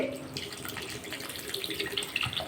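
Water poured into a pan of egg curry, a continuous splashing trickle that runs steadily throughout, fairly quiet and close, with no talk over it.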